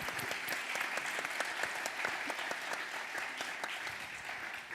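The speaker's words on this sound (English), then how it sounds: "I think they deserve a big round of applause for their contribution" Conference audience gives speakers sustained applause, a dense, even patter of many hands clapping throughout that tapers slightly at the end.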